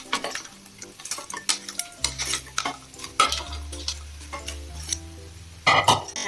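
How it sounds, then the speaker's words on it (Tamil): Crab pieces drop into a hot pan of pepper gravy masala and are stirred with a metal spoon, steady sizzling under repeated scraping and clinking against the vessel, close and fairly loud. "இப்போ நம்ம எடுத்து வச்சிருந்த நண்டை ஆட் பண்ணிக்கலாம்."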